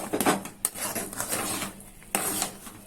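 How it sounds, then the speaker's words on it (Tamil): Lid put on a pot of cooking wheat rava upma, producing a few sharp metallic clanks and rattles, the first cluster near the start and a second knock later, close and fairly quiet with no talking. "மூடி போட்டு வேக வைக்கலாம்."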